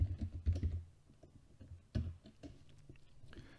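Computer keyboard keys tapped in quick bursts while a search term for insulation material is entered, with a louder cluster near the start, a pause, then lighter scattered clicks, close and alone without talk.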